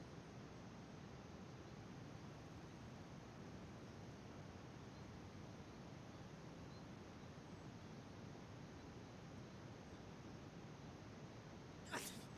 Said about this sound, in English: Bless you, Dito.